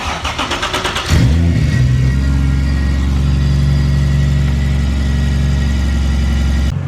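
A Toyota Supra running on E85 cranks with a fast, rhythmic starter whir for about a second, then catches and settles into a loud, steady, low idle.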